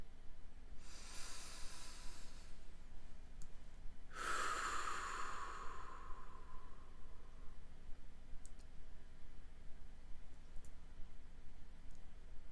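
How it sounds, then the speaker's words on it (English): Slow deep breathing during a relaxation exercise: two long airy breaths, an inhale followed by a louder, breathier exhale with a faint whistle, close to the mic over quiet background hiss, no talk. "Take a few deep breaths with me."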